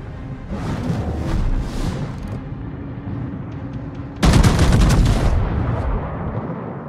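Warship guns firing in the video game World of Warships, with a battleship's booming salvo bursting in loud and close after a rumbling, roaring stretch, then fading into a long, heavy tail.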